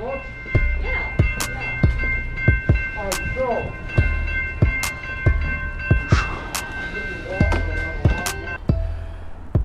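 Clanks and knocks at a steady rhythm come from a train at the Kirkwood Amtrak station, heard close by with faint tonal ringing in the background.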